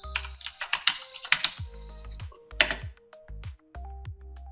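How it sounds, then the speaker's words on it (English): Keystrokes on a computer keyboard while entering commands in an Ubuntu 24.04 terminal, sounding as close, irregular bursts of clicks separated by short pauses. "I'm going to clear so you can see what I'm typing here."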